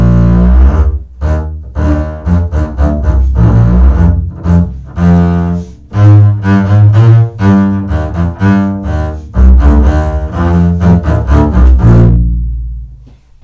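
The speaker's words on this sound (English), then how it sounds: "Here's an extract from Sanson's Carnival of the Animals, where the bass is used to represent an elephant." A solo double bass plays the elephant movement from Saint-Saëns' Carnival of the Animals, a loud, low, lumbering melody of bowed notes in a rhythmic, phrase-by-phrase line.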